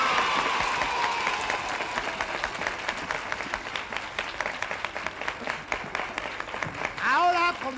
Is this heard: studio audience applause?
yes